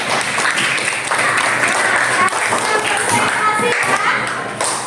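Steady applause from a classroom full of children, dense clapping that holds for the whole stretch with a few kids' voices mixed in.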